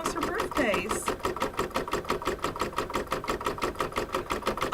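An embroidery sewing machine stitches an apple-design coaster with a steady, fast mechanical rhythm of even needle strokes, while someone talks over it.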